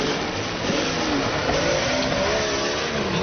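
A Jeep engine revving hard as it climbs a hill in the rain during off-road hill climbing, with a loud, steady, strained roar that rises slightly in pitch, heard from nearby.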